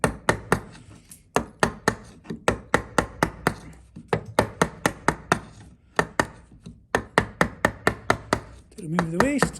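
A bevel edge chisel chops waste from wood held in a vise for a bridle joint, giving close, sharp knocks in quick rhythmic bursts separated by short pauses, with a brief voice near the end.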